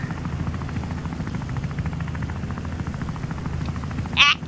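A helicopter in the video game Wobbly Life chops steadily with a continuous rotor thrum throughout, and a brief squawking cry cuts in near the end.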